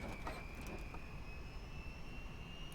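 Turbine whine of a UH-1 Huey helicopter starting up in the X-Plane 11 flight simulator, a steady high-pitched tone that slowly rises in pitch over a continuous low engine rumble, with no voices.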